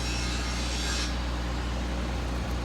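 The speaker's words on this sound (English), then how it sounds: "There's some guys grinding over there doing on some railing at a commercial building." A constant abrasive grinding rasp of metal railing being ground at a commercial building hums in the background, steady and somewhat distant, with no one speaking.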